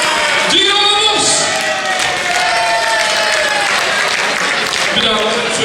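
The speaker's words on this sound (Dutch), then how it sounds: "Een hard applaus." Audience applause at a carnival song contest prize announcement in Limburg, a loud, sustained wash of clapping from a large crowd, with voices and musical tones over it.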